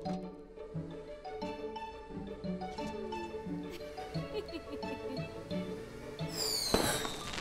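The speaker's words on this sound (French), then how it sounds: "Les feux d'artifice font des bruits forts." Cartoon fireworks from a French children's animated show burst over bright tonal music, with a sharp rising whistle and a loud crackling blast near the end.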